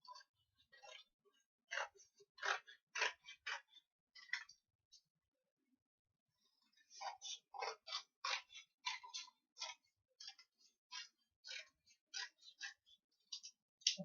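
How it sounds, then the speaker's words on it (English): Crisp, close snips of scissors cutting strips of paper come in quick bursts, with a pause midway before the snipping resumes. No talking. "get my scissors, cut those strips out"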